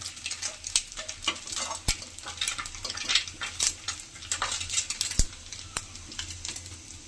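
Small mola fish fry in hot oil in a home kitchen, giving a continuous crackling sizzle broken by sharp metal clinks of a spatula against the pan, with no talking.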